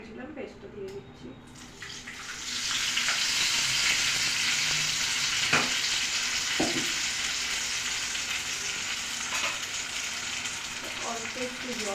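Curry paste for an egg and onion curry sizzles loudly in a hot pan with fried eggs, a steady frying hiss building after a quieter start, with occasional utensil clinks and stirring.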